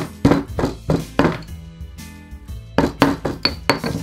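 Thyme and black garlic being smashed in a mortar and pestle: a run of sharp thunks and clinks in an uneven rhythm, close and clear, with a brief lull midway before the pounding resumes.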